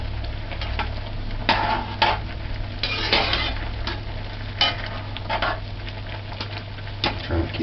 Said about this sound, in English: stir it so that it don't stick.